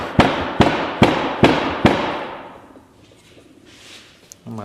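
An engine part is banged on a table: five sharp, loud metallic knocks in an even rhythm, each ringing out, then quiet with a final brief clatter.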